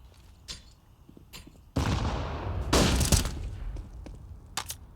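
Grenades blow up in a Counter-Strike match on the Overpass map, two heavy booming blasts a second apart with rumbling tails, amid scattered faint gunshots and game noise.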